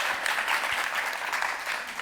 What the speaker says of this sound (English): we do another round of applause for that